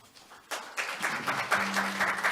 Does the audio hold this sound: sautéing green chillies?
no